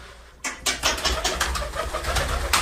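A rescued flock of pigeons cooing inside a home in Nairobi; after a brief quiet start, repeated soft throaty coos and flutters overlap in a busy, close chorus.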